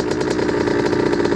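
Two-stroke motorcycle engine running steadily at close range, a loud buzzing drone with a slight pulsing rhythm and no talk over it.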